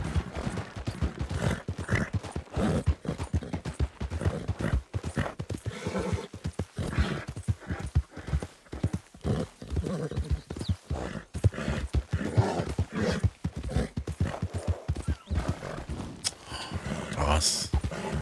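Horse hooves clip-clop in a rapid, steady rhythm close by during a race, with occasional whinnies and a person talking over the hoofbeats.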